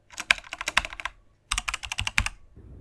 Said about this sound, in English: type something